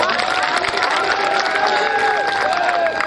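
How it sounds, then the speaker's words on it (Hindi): Crowd noise with cheering and clapping from an audience at an outdoor music festival performance in Chhattisgarh, a dense, steady roar with overlapping shouts lasting throughout, a few voices standing out. "इसके लिए विशेष तालियां बजाई है"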